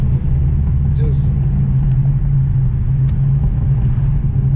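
A loud Chevrolet Camaro ZL1 engine rumbles continuously from inside the car during a ride, a deep, steady low drone with little change in pitch.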